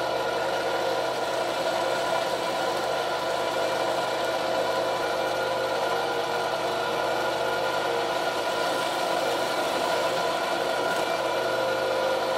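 A drill fitted with a 30 mm bit bores into a wooden beam, producing a steady, continuous motor drone with a faint woody grind that holds at an even level throughout.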